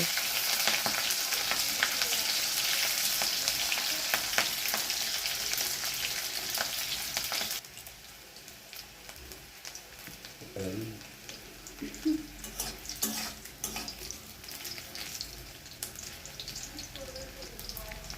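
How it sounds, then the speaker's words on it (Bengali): Cubed onions frying in hot mustard oil in a pan, a loud steady sizzle at first that drops to a quieter crackle with occasional stirring clinks and scrapes. "সর্ষের তেল গরম হয়ে গেলে আমি কিউব করে রাখা পেঁয়াজগুলো দিয়ে দেবো"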